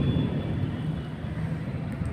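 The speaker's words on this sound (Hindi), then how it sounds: "ये देखिए, आवाज़ सुनिए बादल की।" Thunder from rain clouds gives a low, continuous, distant rumble on a rainy morning, a steady dull roar with no sharp cracks.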